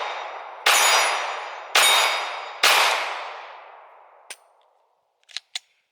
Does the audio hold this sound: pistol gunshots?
yes